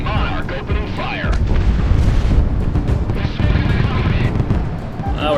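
Aircraft cannon and gunfire in the Project Wingman flight game: a dense, continuous roar of booming, crackling fire with explosions, loud and sustained throughout.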